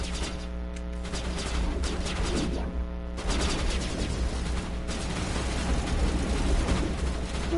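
Gunfire from the Mass Effect 1 Legendary edition video game: a sustained, dense barrage of rapid shots and bursts running throughout, loud and continuous with heavy low rumble beneath.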